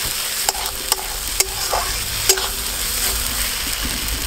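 Mustard and green and dried chilli paste frying in oil with spices for a fish curry, a steady sizzle broken by sharp clicks and scrapes of stirring, close and continuous with no talk.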